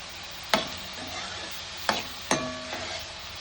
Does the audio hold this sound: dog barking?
no